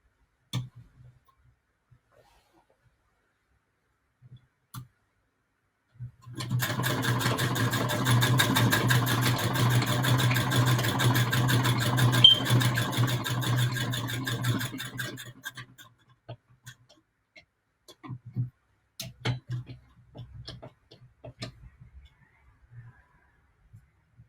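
A hand-crank sewing machine stitches patchwork, its needle ticking in a fast, steady mechanical rhythm for about nine seconds, framed by quiet clicks and thread handling before and after.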